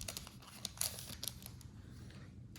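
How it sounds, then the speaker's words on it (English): Scissors snip and crinkle through the foil wrapper of a 1991 Classic Best Minors baseball card pack, a few quiet sharp cuts and rustles heard close up in a hushed room. "So we're going to use the scissors."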